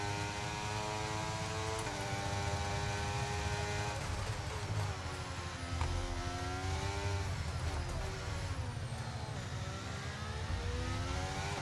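F1 race car engine in the F1 23 video game at Singapore, a McLaren droning steadily at high revs with rising and falling pitch through gear changes, loud and continuous with no talk.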